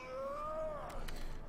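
A cat-like alien creature in Mass Effect Andromeda gives a single short meowing cry that bends upward then down, followed by a brief rough rasp, heard alone at moderate volume.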